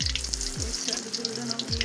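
Pakoras frying in hot oil for kadhi pakora, a close, continuous crackling sizzle with bright bubbling pops all through.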